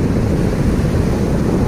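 Big waves surge in at Icacos beach in Acapulco, a continuous loud roar of surf mixed with wind buffeting the microphone, with no talking.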